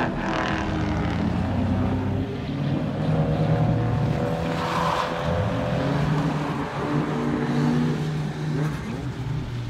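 Race cars roaring around a racetrack during an open day with drifting, a continuous loud engine drone with shifting pitches and overlapping vehicles passing nearby.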